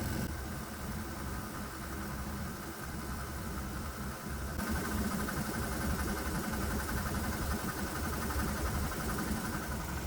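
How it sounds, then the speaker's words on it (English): A diesel engine running on propane idles steadily, a constant low throbbing drone with a mechanical hum that holds even for the whole stretch. "Let's let the engine run for a while on this elixir."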